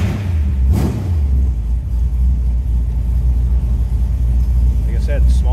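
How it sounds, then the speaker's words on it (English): A 1966 Chevrolet Corvette roadster with a small block 350 V8 and headers idles with a deep, steady low rumble close by, a brief rev swelling early on, and faint talk near the end. "Let's go ahead and fire this car up."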